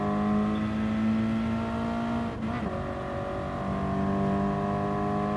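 A 2022 Toyota GR86 in a Gran Turismo Sport drag race with traction control off, engine droning loud and steady with a brief gear-change dip in pitch partway through.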